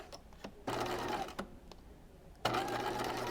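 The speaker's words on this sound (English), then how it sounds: "So I'm going to sew this side first from the center to the point" A sewing machine stitches a fabric dart for a carousel dress at regular stitch length, running in two steady bursts separated by a short pause, close and clear with no talking.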